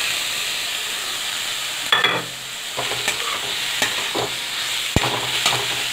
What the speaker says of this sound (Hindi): अभी मैं इसमें ये गाजर और पत्ता गोभी जो घिस के रखी थी उसको डाल दूंगी